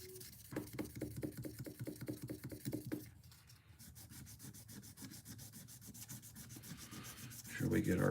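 Rapid, rhythmic hand sanding with sandpaper on a Case folding hunter knife, a dry scratchy back-and-forth that pauses briefly and then continues more softly before a louder scrape.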